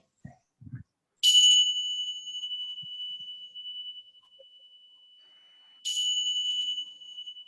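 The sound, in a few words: bells ringing to end a yoga session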